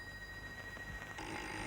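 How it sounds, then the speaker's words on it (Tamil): A telephone rings inside a house at night during a horror film scene, with a soft, steady trilling ring that grows a little fuller partway through, faint and with no one talking. "Sir phone sir."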